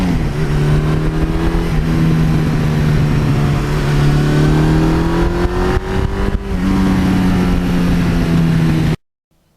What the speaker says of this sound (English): you would be surprised how happy this bike is on these bumpy back roads